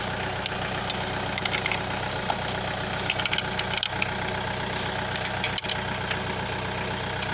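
A diesel engine runs steadily just after its injection pump was replaced and bled, giving a close, loud, even idle with a rough knocking rhythm and a few sharp clicks, no talking.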